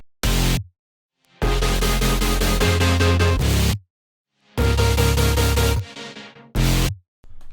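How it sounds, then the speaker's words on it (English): The full stack of synths from an electronic dance track plays together in loud bursts: a short hit, a long sustained chordal passage, silence, another long passage and a final short stab, with no voices. "let me play all the synths through so you know what they sound like"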